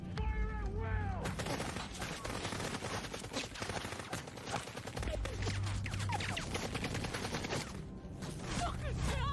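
Rapid gunfire and blasts fill a space battle in Star Citizen, dense and continuous throughout, with an early descending tonal sweep and voices shouting over the shooting.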